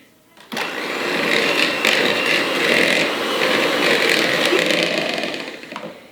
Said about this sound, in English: we are going to cream the Philadelphia cream cheese with a blender